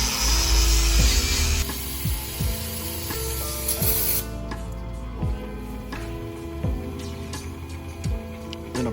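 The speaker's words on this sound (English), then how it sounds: "Cleaning it with some brake cleaner." A can of brake cleaner hisses in a loud, close burst onto BMW E60 parts for about four seconds, followed by a series of quieter mechanical clicks and taps.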